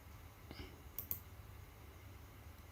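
Mouse clicks on a computer while setting up a Facebook Pixel on an Elementor web page: a couple of quiet, sharp clicks near one second over a low steady room hum.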